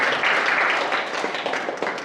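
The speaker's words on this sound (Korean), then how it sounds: "하나님께 영광의 박수 드리겠습니다." Congregation applause during a Korean church Sunday worship service, a warm wash of many hands clapping together, loud at first and then thinning slightly into scattered claps over two seconds.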